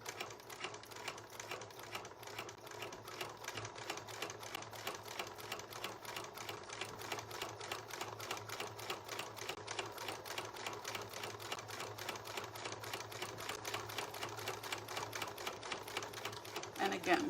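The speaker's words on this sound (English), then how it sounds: "go ahead and sew right along that seam allowance, just a straight stitch" A sewing machine runs a straight stitch along a seam allowance on jeans-style fabric, a steady fast mechanical chatter held throughout at moderate level with faint talk underneath.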